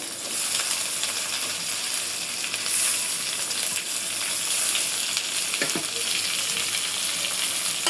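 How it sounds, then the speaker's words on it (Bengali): More than a cup of chopped onion sizzles in oil in a pan after prawns were fried, for a village-style prawn and coconut paste dish; a steady, loud hiss continues throughout with a faint stirring clink. "রান্নার জন্য আর একটু তেল দিয়ে দেবো দিয়ে দেবো এক কাপের থেকে বেশি পেঁয়াজ কুচা"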